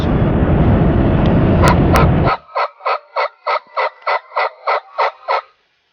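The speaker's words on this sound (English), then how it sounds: "the gobblers started gobbling at 6:21, 45 minutes before daybreak. They're going nuts" Wild Rio Grande turkeys gobble before daybreak in Kansas. A dense, loud rumble gives way to a clear run of about ten rapid, evenly spaced gobbling pulses that sound fairly near, with no talking.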